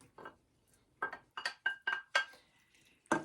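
Turkey sausage goes into a pot of Cajun bean soup with a series of sharp metallic clinks and knocks from a utensil against the pot, about eight close, distinct hits.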